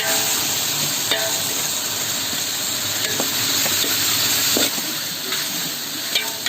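A continuous, hissing sizzle of ginger paste frying with softened onions and tomatoes in a pan, with occasional soft scrapes of stirring, steady and close, without any voices.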